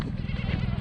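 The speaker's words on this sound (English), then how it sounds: "The goat's back." A goat in Fez bleats once in a short, nasal cry close by, over a low background rumble.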